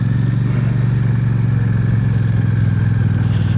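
A Royal Enfield motorcycle being ridden gives a steady, loud, close engine drone with an even low thrum that holds constant throughout, with no voices.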